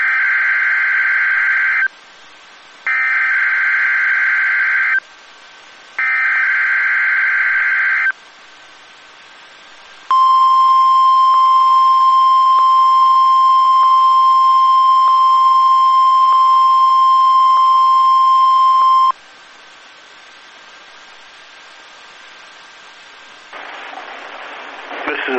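NOAA Weather Radio test tones: three long loud pulsing alert bursts separated by short gaps, then a sustained steady high tone lasting about nine seconds, followed by quiet static.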